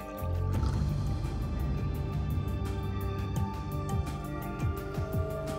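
Milk pours from a small glass into a larger one during a bottomless-cup magic trick, a continuous liquid splashing and filling sound that runs close and steady throughout.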